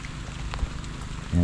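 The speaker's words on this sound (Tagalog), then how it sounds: "Yan naman, malakas na naman yung ulan." Rain falls steadily and heavily on a garden with papaya plants and orchids, an even hiss of drops with a few close splats, faint and continuous, and a low hum rising at the very end.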